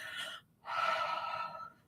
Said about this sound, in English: I'm breathing onto it so the moisture from my breath re-inks or re-wets the ink